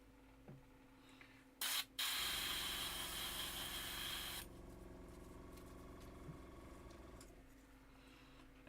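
A spray paint can with a previously blocked nozzle coats miniature models: a brief spurt, then a strong, steady hissing burst lasting a couple of seconds before stopping, heard close in a quiet room.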